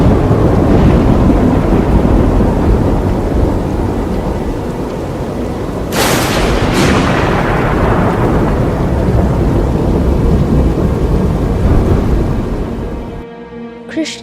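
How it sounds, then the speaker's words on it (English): A heavy thunderstorm: loud, continuous torrential rain with deep rolling thunder, a sharp crack midway and fading rumbles before the downpour cuts off near the end. "Suddenly, clouds rumbled, and torrential rains began to fall"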